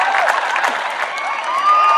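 An outdoor crowd cheers and claps for torch bearers running toward the flame lighting, a sustained mass of voices with whistles and shouts rising near the end.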